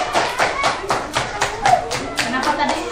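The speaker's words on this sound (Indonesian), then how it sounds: "Tepuk tangan untuk kelompok 3." A group in a classroom claps together in a steady rhythmic pattern, about a dozen sharp claps, with children's voices mixed in.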